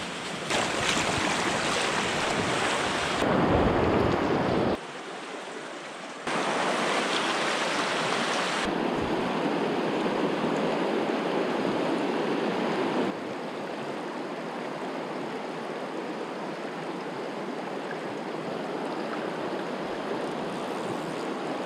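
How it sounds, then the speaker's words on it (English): River water flowing beneath rocks at a small fishing spot, a steady loud broadband rush that continues unbroken, with no voices. "the water is flowing beneath the rocks"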